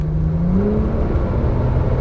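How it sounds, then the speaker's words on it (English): A Porsche Turbo S engine at full throttle on a racetrack in Las Vegas roars loud and steady from inside the car, its pitch climbing slightly as it accelerates. "Squeeze the throttle again, all the way down the throttle."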